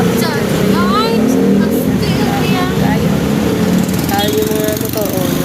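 Road traffic in Yantuan with cars and motorcycles idling and revving in a jam, a steady loud engine drone with rising whines throughout while a person talks over it.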